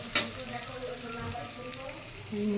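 Tomato and spices fry in a pan with a soft, steady sizzle, fairly quiet and close, with a brief clatter near the start.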